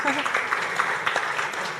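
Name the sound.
audience applause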